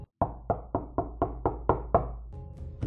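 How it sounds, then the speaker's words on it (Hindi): Eight firm knocks on a wooden door in a steady, evenly spaced rhythm, close and loud, followed by a low hum with no voices. "अगली सुबह दरवाजे पर दस्तक हुई।"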